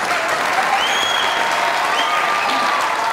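An audience applauding, a dense steady clatter of many hands clapping close and loud throughout, with faint crowd murmur beneath.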